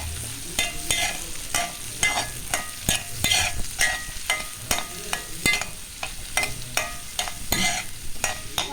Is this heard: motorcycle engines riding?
no